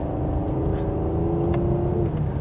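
A 2026 Cadillac CT5 V-Series sports sedan revs its engine in a loud, steady low drone, with a couple of faint exhaust crackles briefly popping through.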